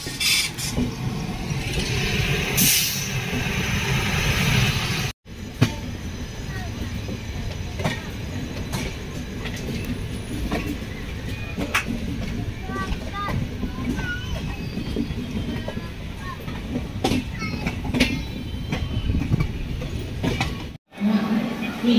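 A Magadh Express passenger train, number 20802, standing at Deen Dayal Upadhyaya station, gives a steady loud rumble and rail clatter throughout, with brief dropouts and people talking nearby.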